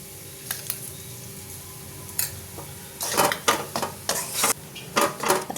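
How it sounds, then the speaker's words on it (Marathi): Date powder and flour roast in a kadhai, stirred with rhythmic scraping strokes that start sparse and grow into a run of loud, close scrapes, with a faint sizzle underneath. "खारीक पावडरसुद्धा या पिठाबरोबर चांगली भाजून घेऊयात"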